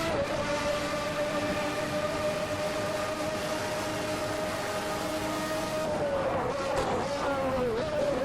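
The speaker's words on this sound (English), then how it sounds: "Hear that reverb between the grandstand and the pit lane." Loud, sustained McLaren MP4/6 race car engine whine in a racing video game, holding a steady high pitch, echoing between grandstand and pit lane, then dropping and wavering as it shifts near the end.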